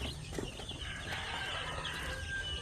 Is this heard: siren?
no